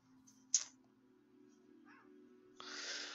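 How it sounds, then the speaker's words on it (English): Two pet cats fight indoors: a sudden sharp yowl, a faint meow, then a sustained harsh hiss, all fairly distant over a low steady hum of game music. "My cats are fighting, if anybody cares."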